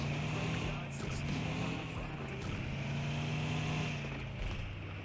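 A car drives in the video game PUBG Mobile, its engine droning steadily and loudly throughout with small shifts in pitch, uninterrupted by other sounds.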